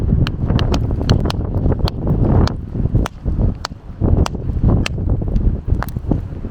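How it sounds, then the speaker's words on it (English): Strong gusty wind buffeting the microphone on a rocky shore beside a rock pool, a loud continuous low rumble with sharp crackling ticks scattered throughout. "The wind is pretty awful today."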